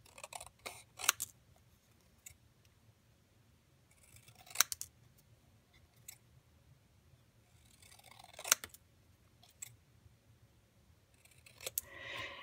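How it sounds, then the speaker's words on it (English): Paper snips cut cardstock in a series of quiet, close crisp snipping clusters spread across the span, with soft paper rustling between cuts and no talking. "I just cut it out just like this with the paper snips."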